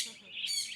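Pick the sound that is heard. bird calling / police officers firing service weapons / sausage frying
bird calling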